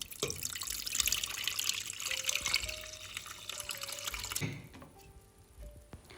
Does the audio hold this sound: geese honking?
no